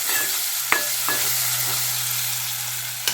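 Brinjal and tomato pieces fry in a pan, a constant bright sizzle broken by a few sharp spatula scrapes and taps, close and alone.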